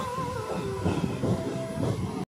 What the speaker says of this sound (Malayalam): നമ്മുടെ ട്രെയിൻ ഇപ്പോൾ തിരുവനന്തപുരം സെൻട്രലിനെ ലക്ഷ്യമാക്കി പോയിക്കൊണ്ടിരിക്കുകയാണ്